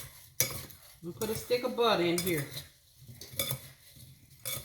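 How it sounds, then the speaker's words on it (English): A utensil stirs apple pie filling with lemon zest in a bowl, making close scraping and clinking strokes in uneven bursts with short pauses between. "And I'm gonna stir it up here."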